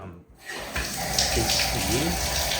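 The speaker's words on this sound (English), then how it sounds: "that sink works. It actually has quite a bit of pressure." A bathroom sink tap is turned on and runs with good pressure, giving a steady close gush of water that starts after a brief quiet moment and continues to the end, with a voice faintly audible underneath.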